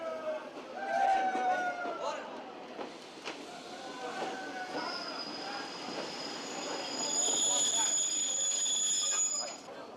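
A train on the Douro line rolls into a Portuguese station with high metallic wheel squeals and brake hiss over a busy station murmur of voices.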